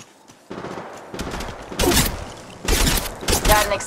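Bursts of automatic gunfire in Apex Legends Mobile, two long loud volleys after scattered shots, with faint game voice chatter underneath.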